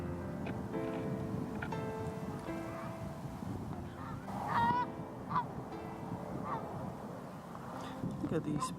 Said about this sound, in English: Look at these poor geese.